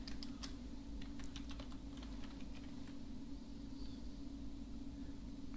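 Keys tapped on a computer keyboard in quick, light clusters of clicks, faint and close, over a steady low hum with no talking.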